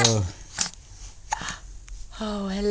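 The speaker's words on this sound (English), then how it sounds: "She always gets the hiccups." A baby girl hiccups: a few short, soft hiccups spaced irregularly between her higher-pitched vocal sounds, close by in a quiet room.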